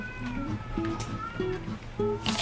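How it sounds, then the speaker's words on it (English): Cat meowing in a scene from the sitcom The Office, as one cat mounts another; several short tonal meows repeat at a steady rhythm, close and clear over a low background hum. "Oh, that one ugly cat is humping Princess Lady."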